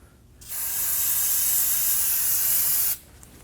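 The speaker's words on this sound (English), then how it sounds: "Now we're gonna go ahead and use some brake parts cleaner." Brake parts cleaner sprayed onto a brake caliper on a Nissan Armada, one continuous loud aerosol hiss lasting about two and a half seconds, close up and alone.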